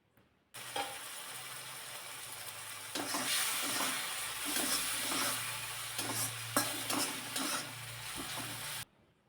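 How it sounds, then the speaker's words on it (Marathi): Chopped tomatoes sauté in a pan with a light sizzle while a spoon stirs and scrapes repeatedly, close and steady for about eight seconds before stopping abruptly, no voices. "चिरलेला टोमॅटो घालून चांगलं हे परतून घ्यायचं आहे"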